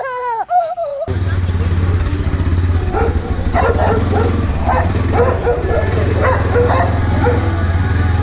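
Dog barks yip repeatedly over a constant low engine hum, after a brief whining sound at the start; someone talks in the background.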